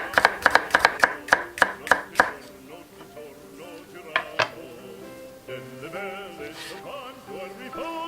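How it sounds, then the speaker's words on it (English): A knife chops peppers on a board while a homemade Tuscan-style pizza is topped, giving a quick run of about eight sharp, close cuts followed by scattered lighter taps and soft handling clatter. "Now I have some peppers here. I'm just gonna put a few"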